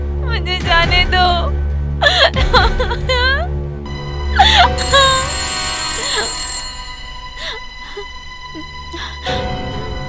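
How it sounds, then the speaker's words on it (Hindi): A phone ringtone plays in repeated bursts amid distressed voices and whimpering, then rings on more steadily while the pleading fades. "ये साला फोन भी अजीब चीज है, किसका फोन है पता नहीं।"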